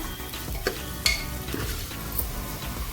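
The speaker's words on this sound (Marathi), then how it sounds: "हे एक मिनिट परतवून घेऊया" Chili, green chili and turmeric sauté in oil for dal, making a close crackling sizzle with occasional spatula clinks against the pan.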